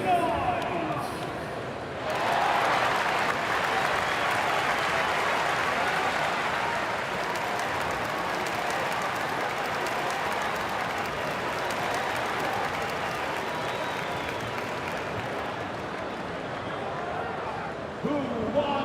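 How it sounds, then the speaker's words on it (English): Arena crowd noise from a basketball video game during a timeout, a steady roar of cheering and applause that swells after a quieter opening and holds loud and continuous until the end. "On your feet, fans, make some noise."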